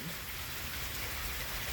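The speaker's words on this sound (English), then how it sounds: "It is pouring down. I know y'all hear that rain." Heavy rain pours down in a dense, constant hiss that is even and unbroken throughout, with no voice heard over it.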